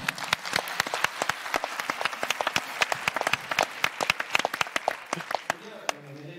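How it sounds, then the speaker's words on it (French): An audience claps for comedian Frédéric Sigrist at the 150th anniversary event of Addictions France, a lively spread of sharp individual claps that thins toward the end, with a voice speaking briefly near the close. "Merci Frédéric Sigrist, on peut applaudir."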